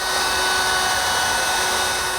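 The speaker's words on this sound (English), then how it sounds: "when I pull the lever forward, a drill bit comes out to make the hole for the screw" A pocket hole jig's drill bit boring a screw hole for a wooden hall seat joint, a steady, loud, even whirring drone that holds unbroken throughout.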